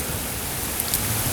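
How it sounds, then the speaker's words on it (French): Steady rain pours down during a storm while someone shelters under a tree on a wilderness trail, a dense, even hiss of falling drops lasting the whole short moment with a couple of faint higher taps. "On aime bien la pluie mais pas trop l'orage."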